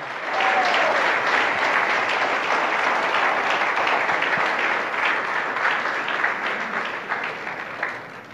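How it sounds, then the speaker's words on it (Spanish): Church congregation applauding during a Spanish-language sermon, a loud, dense and sustained burst of many hands clapping that runs steadily throughout before easing slightly near the end. "¿Cuántos aplauden en esta mañana?"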